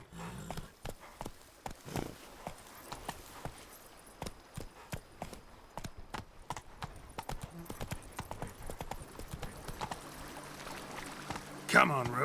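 A horse's hooves clip-clop in a brisk, steady rhythm across ground in The Witcher 3: Blood and Wine, close and clear, with a short burst of other game sound near the end.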